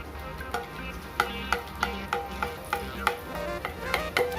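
Boondi batter frying in hot oil, a steady soft sizzle punctuated by regular sharp metallic taps of a ladle about every half second.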